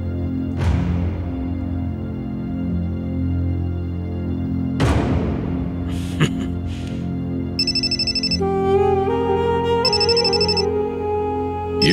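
A telephone rings alone indoors: a sharp tone burst at the start, then another, followed by repeated electronic ringtone bursts in a steady pattern, clear and fairly loud over a low background hum.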